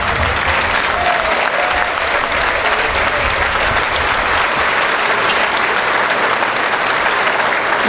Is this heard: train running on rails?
no